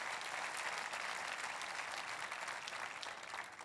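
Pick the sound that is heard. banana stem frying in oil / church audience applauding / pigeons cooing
church audience applauding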